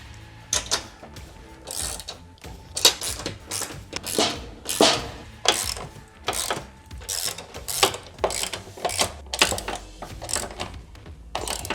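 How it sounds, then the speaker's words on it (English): Ratchet tightening bolts into T-bolt channels while installing Holman folding shelves in a Ford Transit van: a close series of quick, crisp clicking bursts in an uneven rhythm, with short pauses between strokes. "So we're just gonna be tightening these to our T-bolts that are in these channels."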